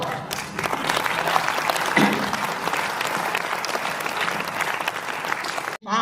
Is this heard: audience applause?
yes